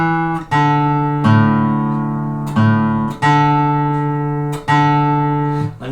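A clean guitar melody from Greensleeves, single notes with sustained ringing tones, several attacks spaced about a second apart, played alone.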